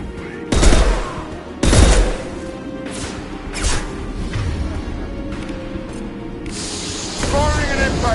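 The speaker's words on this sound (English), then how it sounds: "Firing an impact shot." Gunfire in the sci-fi shooter Mass Effect 2, heavy impact shots and crashing hits spaced across the scene over steady combat background noise, with voices talking at times.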